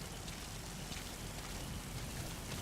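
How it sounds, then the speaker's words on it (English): Steady rain in Metal Gear Solid V: The Phantom Pain, a faint, continuous hiss of falling drops with no break and no voices. "The rain should muffle our footsteps."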